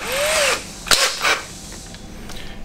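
A power drill with a tolerance drill bit whirs briefly while preparing a hole for a captive screw, followed by a couple of sharp clicks and knocks, then quiet mechanical noise.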